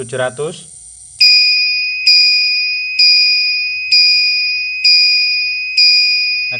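Some brief noise at the start, then a shrill electronic buzzer, part of a motorcycle touch-switch security circuit, sounds in slower, evenly spaced pulses, each tone fading slightly before the next.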